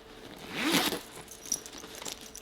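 A zipper is pulled shut on a handmade bag in one quick close, a bright scraping zip near the mic followed by a few small clicks.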